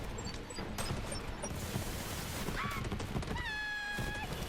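Homing micro-missile rockets in a video game, a whooshing rush with bright whistling tones that rise and hold near the end, over steady loud background game noise.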